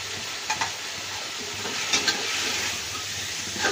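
Beef biryani masala mixed with yogurt and pickle is stirred in a pot, giving a steady soft sizzle under scraping stir strokes with a few louder clinks, close and continuous.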